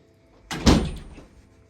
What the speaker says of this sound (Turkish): Niye kapıyı açmıyorsunuz bir saattir kız?